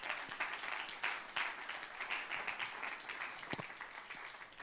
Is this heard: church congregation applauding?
yes